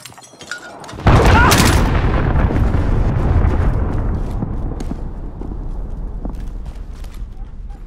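Missile strike in the video game Modern Warfare: a sudden loud blast about a second in, followed by a long rumbling roar that slowly fades, with faint scattered crackles and pops after it.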